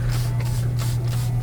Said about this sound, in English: I can spray my pad, then wring it out so you can see all the gunk that's coming out